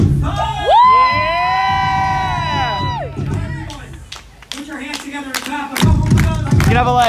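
A lively audience at a children's entertainment show opens with a long, sustained whoop-like cheer, then breaks into shouts and scattered, sharp handclaps, all loud and close.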